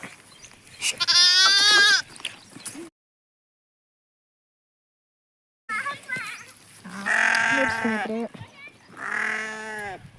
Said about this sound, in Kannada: ನೋಡ್ರಿ, ಇದು ಕುರಿ.